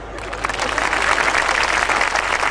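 Audience applause at a Hindi comic poetry (hasya kavi) event, a steady wash of many hands clapping throughout, fairly loud and continuous with no talk over it.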